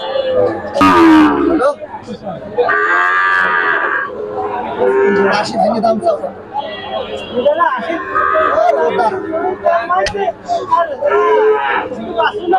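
Loud moos from local heifers and Sahiwal calves ring out amid a bustling cattle market in Gopalganj, with people talking throughout and several animals calling at different moments.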